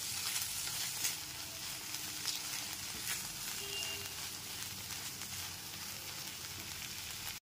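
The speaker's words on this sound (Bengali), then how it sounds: "গরম মশলা গুঁড়োটা দেওয়ার পরও খুব ভালো করে একবার মিশিয়ে নিতে হবে।" Lote fish jhuri sizzling as garam masala powder is stirred through it in a frying pan, a steady close hiss of frying with light scraping strokes running throughout, no voices.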